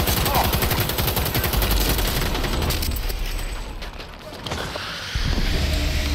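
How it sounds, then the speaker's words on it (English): Rapid automatic gunfire from a gun in the video game Cyberpunk 2077, loud and dense with continuous bursts, briefly easing before resuming at full intensity. "This recoil on this gun is crazy."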